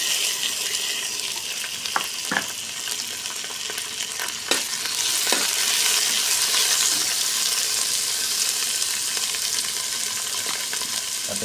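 Ginger and tomato sautéing in a pan as the base for clams, a steady loud sizzle and hiss with a few sharp clicks of stirring, no talk.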